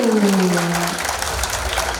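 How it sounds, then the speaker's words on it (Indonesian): Applause from the crowd at a city nutrition campaign event in Batu follows the fading tail of a voice or tone, then settles into a brief, even spread of clapping in a large room. "Tepuk tangan untuk Kota Wisata Batu."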